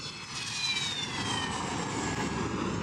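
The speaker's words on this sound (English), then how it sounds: "another Syrian aircraft, the MiG-23, which dates back to the 1960s" A Syrian MiG-23 jet, a 1960s design, roars loudly overhead at an airbase just back from a bombing run, its steady engine rumble and whine filling the moment with no voices.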